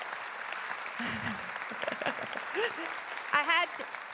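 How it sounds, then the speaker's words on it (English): Audience at a congressional update and Q&A event applauding, a moderate round of clapping under a speaker's voice through most of the clip. "can we get a big round of applause for Katerina Pereira?"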